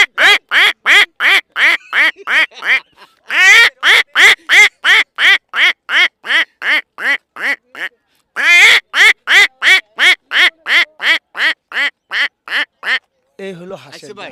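A person imitates a duck, repeating loud, rhythmic quacks in quick bursts, close to the microphone, with short pauses between runs of calls.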